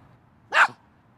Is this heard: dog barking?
yes